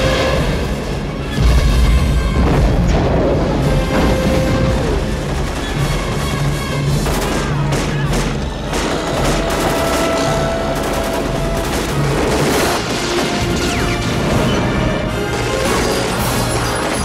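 Dense movie gunfire from the action film Eraser, as shooters rise up firing from a mechanical dredger: loud continuous volleys of shots, booms and impact crashes layered over a low rumbling score, with no talk.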